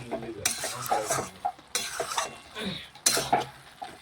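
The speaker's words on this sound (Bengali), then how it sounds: "বাঁধাকপিটা একটু ম্যাশ করে নিচ্ছি এইভাবে" Boiled cabbage is mashed and stirred in a pan, giving scraping and clinking utensil-on-metal sounds in several bursts with soft mushy squelches between, fairly close and with no talking.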